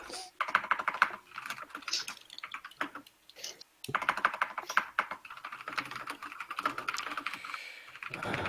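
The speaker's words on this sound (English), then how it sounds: "I know it's probably worse with the mechanical keyboard" Rapid keystrokes clatter on a mechanical keyboard in irregular bursts, stopping briefly for a short gap before the clicking resumes.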